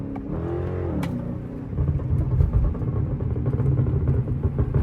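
Chrysler 300 car engine heard from inside while driving, a low steady rumble that rises into a rougher, louder drone after a couple of seconds, with no talk.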